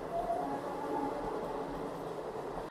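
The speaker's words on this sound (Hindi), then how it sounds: "फिर से एक ट्रेन आ गई यहाँ से" A train rolls past on a nearby railway track with a steady, dense rumble and rattle and a brief faint squeal near the start, continuous and fairly close throughout.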